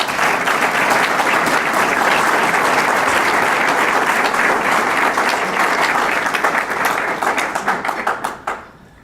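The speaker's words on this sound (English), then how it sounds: "I'd like to give them a round of applause." Loud, sustained applause from a large audience, dense clapping that holds steady for several seconds before tapering off and stopping near the end.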